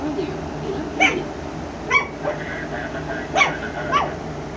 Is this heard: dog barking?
yes